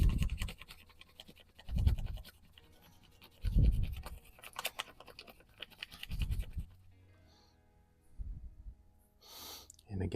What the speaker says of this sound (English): You can lay the sandpaper down and work the knife on the sandpaper instead of the sandpaper on the knife.